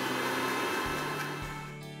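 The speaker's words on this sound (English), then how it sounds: "Blend this well." A blender whirring as it blends chopped turmeric root with water, a brief, fairly quiet steady motor whine that tapers slightly at the end.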